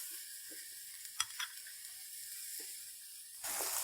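A paneer mixture for nawabi paneer stirred with a spatula in a pan, a faint low sizzle with a few soft scraping strokes and a brief louder clack, then the hiss rises slightly at the end.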